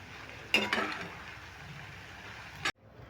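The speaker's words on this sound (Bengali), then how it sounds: "এটা আমি শেষ ব্যাস ভাজছি" Shredded potatoes frying in hot oil for jhuri aloo bhaja, a soft steady sizzle punctuated by a few clinks and stirring scrapes, close and quiet, cutting off abruptly at the end.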